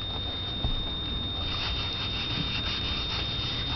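Finish being rubbed by hand onto a vintage wooden tray, a soft, low, continuous rubbing texture heard close up, with a faint bump near the start and no voices.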